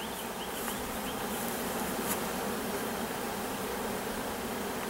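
Honeybees buzz around an open hive during a spring split, a dense, continuous droning hum of many bees close by, steady in loudness throughout with no talk.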